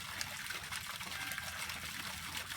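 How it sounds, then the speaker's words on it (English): Garden waterfall outside a front door, trickling steadily with a soft, continuous splashing wash that stays even throughout, fairly quiet and with no voices. "Coming out of our front door is what you get met with a waterfall designed a few years ago"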